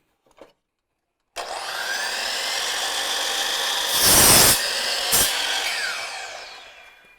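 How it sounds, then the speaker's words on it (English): A saw makes an 18-inch cut across a 2x4 wood board, a loud, close, continuous rasping cut that starts after a quiet moment and runs steadily, with two brief louder surges near the end. "I'm going to move on to make the 18-inch cut of the 2x4"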